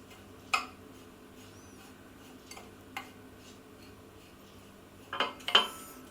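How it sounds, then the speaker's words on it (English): A metal spoon presses a crumb base down into glass bowls for a childhood dessert, giving a few sparse, sharp clinks and taps at close range with quiet pauses between them. "I'm going to use that metal spoon to press down the crumbs"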